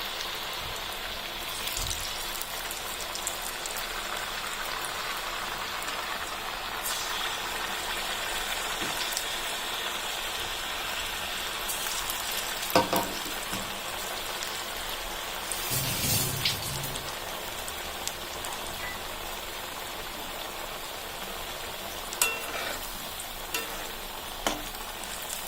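Potato pieces deep-fry in hot oil for chilli potato, giving a steady, close crackling sizzle with occasional sharper pops and stirring clinks over the whole stretch, with no talking.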